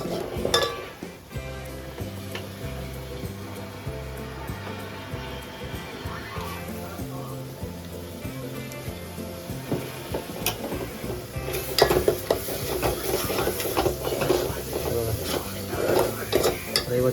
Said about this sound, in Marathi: वाटलेला आता तो मसाला टाकतो इथं.